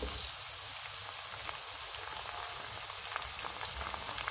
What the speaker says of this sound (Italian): aggiungo in padella i pomodorini